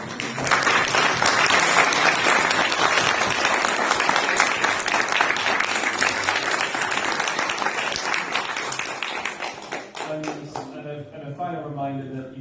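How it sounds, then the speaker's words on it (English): An audience applauds the panelists at a hustings event with parliamentary candidates in Sutton, with loud, dense clapping that thins out after about ten seconds as a voice begins speaking. "Give a round of applause for all of our panelists."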